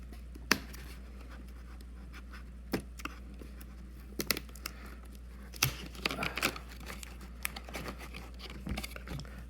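Razer Basilisk X Hyperspeed gaming mouse package being unboxed, with scattered crinkles, taps and tearing of cardboard and plastic close by, sharper bursts of rustling around the middle, over a steady low hum.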